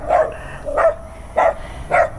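A dog barks excitedly at a puppy during a take-your-dog-to-work day, four sharp, evenly spaced barks, loud and close.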